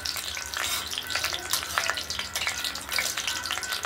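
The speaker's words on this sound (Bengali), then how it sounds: "তেজপাতা, লঙ্কা, মশলা, দারচিনি দিয়ে দিয়েছি। এটা একটু ভাজা ভাজা হোক" Bay leaf, dried chilli, cinnamon and whole spices sizzling in hot oil as a tempering, with dense crackling and spitting pops, fairly close and steady, with no one talking.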